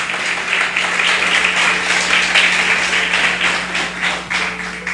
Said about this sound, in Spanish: Usted le da un aplauso al Señor por eso.